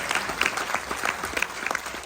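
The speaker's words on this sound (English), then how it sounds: "a big round of applause for our military personnel that received those Medal of Honor" Aboard the cruise ship Carnival Jubilee on a military appreciation day at sea, an audience claps for military personnel who received the Medal of Honor. It is a short, lively burst of many hands clapping close by, with brisk uneven peaks.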